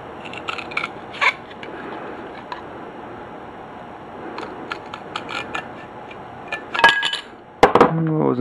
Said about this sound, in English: Let's go ahead and try the tin snip method.